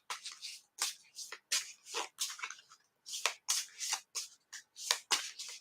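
A deck of cards being shuffled close up, a quick series of crisp riffling bursts with short pauses between them, quiet and with no talking.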